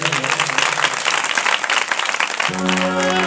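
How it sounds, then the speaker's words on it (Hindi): Audience at a Srimad Bhagavat Katha applauding: dense, continuous clapping from a crowd, joined near the end by a sustained tonal sound, likely music or a voice. "एक बार व्यास जी के लिए जोरदार ताली बजाएंगे सभी लोग।"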